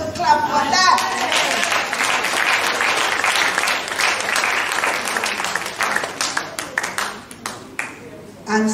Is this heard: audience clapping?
yes